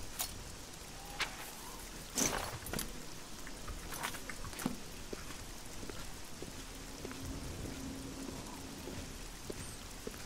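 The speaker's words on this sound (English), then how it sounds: "And it's raining." Rain falling in the video game Oblivion, a steady close patter with scattered sharper drops and one brief louder burst, no voices.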